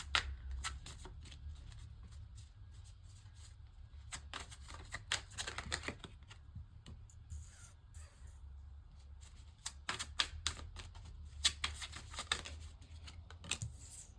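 Tarot cards are shuffled by hand in quiet, soft riffling bursts with pauses between them, faint and close, with no voices.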